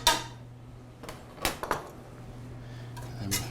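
A whisk knocks against a cooking pot while butter, salt and pepper are stirred into polenta, giving a few sharp metallic clinks spaced apart over a low steady hum, with no talking.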